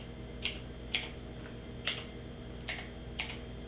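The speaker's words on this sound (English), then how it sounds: "we click the Start bar and we type Notepad" Computer keyboard keys are pressed in a short, irregular run of five distinct clicks, quiet and close over a faint steady hum.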